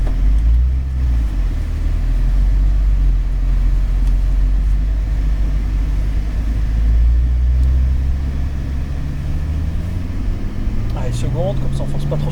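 Porsche 911 Turbo S idles and creeps slowly onto the Michelin circuit track, a low steady engine rumble close by with a gentle rise near the end, while people talk in French.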